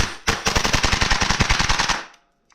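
Tokyo Marui MWS MK16 gas airsoft rifle fired rapidly: a loud, close, fast string of about twenty sharp cracking shots in an even rhythm lasting under two seconds, then abrupt quiet.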